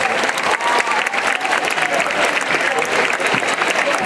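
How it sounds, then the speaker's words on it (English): Audience in a gym at a charity basketball game giving a sustained round of applause, dense and loud claps continuing throughout with some crowd voices mixed in. "If you would help me give them a round of applause."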